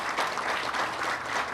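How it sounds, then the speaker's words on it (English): Brief burst of audience applause at an outdoor boardwalk dedication ceremony in Haverhill, a soft continuous wash of clapping lasting under two seconds. "Please give him another round of applause."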